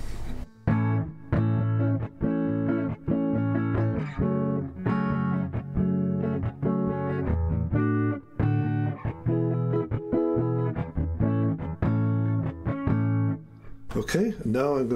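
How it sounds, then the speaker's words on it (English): Clean electric guitar with a bright single-coil pickup tone, on a Harley Benton Nashville Steel Hybrid, plays a run of plucked notes and chords, fairly steady and close, ending with a short noisy burst. "I'm going to play you a few tones, starting with the single coil pickup sound."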